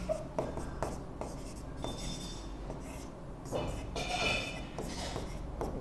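Writing on a board in a Class 10 chemistry lesson, heard as a series of quiet scratchy strokes in an irregular rhythm, close by and fairly soft.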